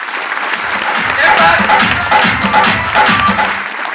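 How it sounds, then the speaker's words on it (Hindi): Audience clapping at a business seminar in a hall, swelling into loud, dense applause after a quiet start and tapering near the end, with a voice heard early on. "एक बार ताली बजाओ सर।"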